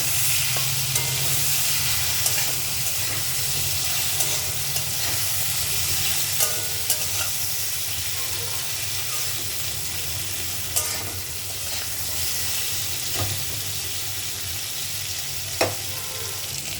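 Turmeric is stirred into a sizzling catla fish curry with potatoes and vegetable stalks in a pan, giving a loud, constant frying hiss broken by occasional scrapes and clinks of the spoon.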